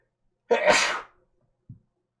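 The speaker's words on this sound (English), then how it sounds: "I'm gonna sneeze. Hold on." A single loud, close sneeze bursts out, followed by a soft short sniff or breath a moment later, then silence.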